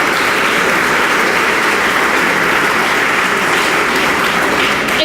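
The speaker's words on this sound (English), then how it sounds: "Can we give a round of applause to all of our entrepreneurs here in the back this evening?" Dense, steady applause from an evening audience celebrating entrepreneurs at a business community anniversary event, sustained at full volume from start to finish with no voices breaking through.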